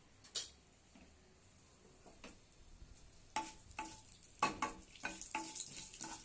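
Mustard and fenugreek seeds crackling in hot oil in a kadai, a faint scattering of sharp pops and ticks that grows busier toward the end.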